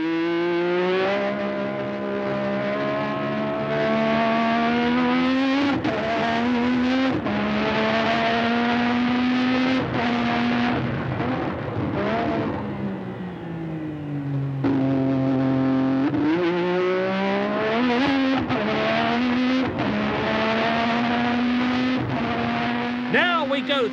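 A Formula 1 car races through the Acqua Minerale chicane at Imola and toward Variante Alta, heard onboard: a loud, buzzing engine climbs in pitch through the gears, dips for braking and rises again as it accelerates.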